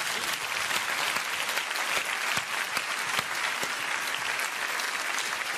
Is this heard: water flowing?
no